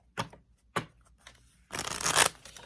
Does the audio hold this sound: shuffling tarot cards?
yes